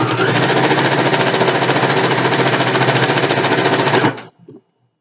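A sewing machine runs loud and close, stitching a satin pillowcase in one continuous fast rattle for about four seconds, then stops abruptly, followed by a few faint handling clicks.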